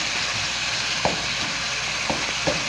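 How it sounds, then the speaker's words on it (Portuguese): Chopped pork sautéing in a pan with lemon seasoning gives off a steady, close sizzle, with a few soft clicks and taps from stirring and the pan. "A carne, ao mesmo tempo que está refogando, ela está cozinhando."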